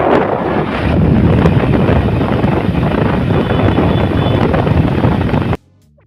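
Wind roars across the microphone during a motorbike ride, a loud, steady broadband rush that cuts off abruptly just before the end.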